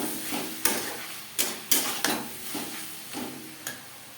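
Ginger and chili paste with onion and tomato is stirred and fried in a pan for a Bengali jackfruit and prawn dish, a low sizzle broken by about eight sharp spoon scrapes and knocks against the metal.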